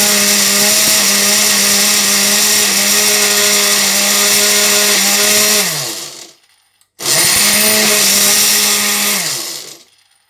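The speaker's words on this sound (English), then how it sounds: "I'm now going to blend my vegetable and my flaxseed together." A blender running loud and steady while blending vegetables with flaxseed, its motor whining continuously, then cutting out briefly before starting up again for a few more seconds.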